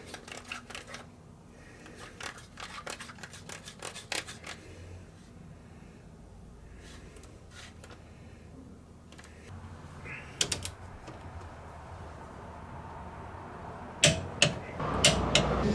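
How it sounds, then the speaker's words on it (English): A torque wrench tightens the carrier bolts to 75 foot-pounds on a rebuilt Chrysler 9.25 rear differential from a 2007 Ram. Faint ratcheting clicks come in quiet bursts, ending in a few sharper clicks. "We're gonna torque the carrier bolts down to 75 foot-pounds."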